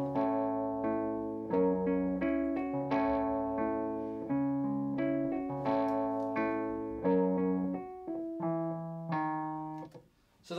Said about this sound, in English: here's the sound of the Wurlitzer with just the amplifier, using a little bit of distortion from here and mainly the speaker to create the colour